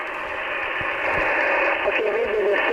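A Sony ICF-SW100 shortwave radio picks up a garbled station, with distorted, band-limited broadcast voices and fluctuating hiss running throughout at moderate loudness.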